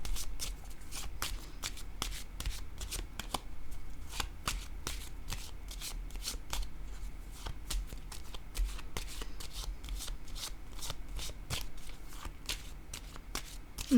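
Tarot cards shuffled and handled during a reading, a steady run of crisp riffling clicks and soft slaps over about fourteen seconds, close and fairly quiet, with no talking.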